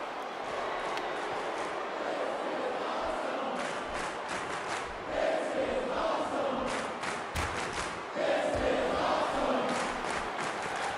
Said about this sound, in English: And the crowd getting fired up here.